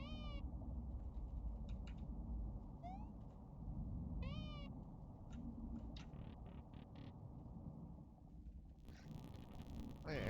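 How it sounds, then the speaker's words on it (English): A cat in a platformer fangame gives a few short, rising meows spaced apart across several seconds, heard over a dense, steady bed of game music and rumble. "Cat."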